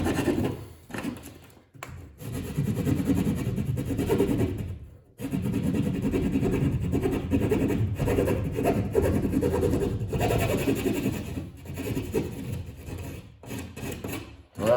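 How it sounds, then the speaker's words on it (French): A hacksaw cuts through a plasterboard wall, with steady back-and-forth rasping strokes, close and continuous, with a couple of brief pauses between runs of strokes. "Avec une scie à métaux, ça va très bien."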